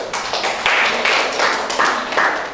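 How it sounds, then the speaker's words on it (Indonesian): Classroom students give a round of handclaps for a presenting group in a primary science lesson, a steady patter of several rhythmic claps rising and falling over about two and a half seconds, with little talking. "cukup ya beri tepuk tangan kelompok 1"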